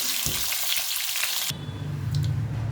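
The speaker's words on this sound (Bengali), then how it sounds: "সেই আলুগুলোই আমি আগে একটু ভেজে নেব।" Plain potato pieces, unsalted and unspiced, fry in hot oil in a pan for a Bengali prawn dish, giving a loud, steady sizzle that shifts in tone partway through as the pieces settle or are moved.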